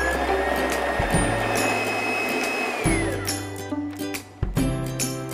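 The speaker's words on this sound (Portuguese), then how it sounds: "agora nós vamos colocar para bater em velocidade média também" An electric stand mixer beats coffee cake batter ingredients at medium speed, a steady close whirring hum that stops and restarts in several short bursts with light clinks between them.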